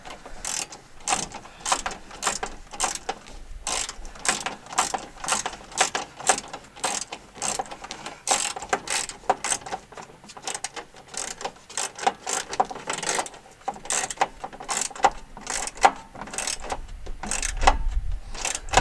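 A 1/4 inch ratchet tightening bolts on a 2006 Jeep TJ during radiator and A/C condenser work, a long run of rapid clicking strokes in repeated bursts, close and fairly loud.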